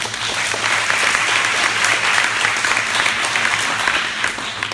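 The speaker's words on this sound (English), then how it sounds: "clap it up for yourself" An audience applauds itself at a mindset seminar, with sustained, full clapping from a large room, loud and steady throughout.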